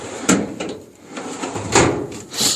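Pull-out drawers of a Craftsman storage cabinet slide and knock shut several times, close and fairly loud, with woody thumps and rattling runs in a quiet room.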